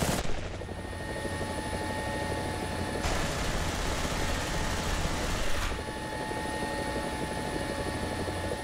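A Mi-24D helicopter in the War Thunder video game flies with a steady, loud rotor and turbine drone, continuous throughout, with a brief swell in intensity partway through.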